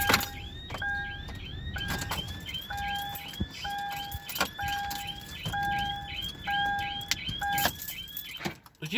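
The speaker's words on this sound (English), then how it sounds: "my alarm's going to go off" A car alarm sounds outdoors on a cold day after a blizzard with 100+ mph winds, repeating a rising chirp and steady tone in a fast looping cycle, loud and close over a windy background.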